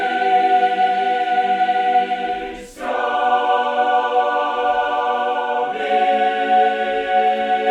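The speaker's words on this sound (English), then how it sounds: "But here's the dry choir." A dry, unprocessed choir holds sustained, mid-heavy chords before any EQ, with a brief dip and breath-like break about a third of the way in before the voices resume, steady and close.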